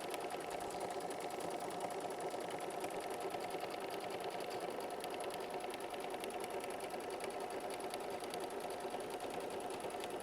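An embroidery machine stitches an applique outline onto fabric, its needle hammering in a fast, steady mechanical rhythm that runs unbroken and close throughout.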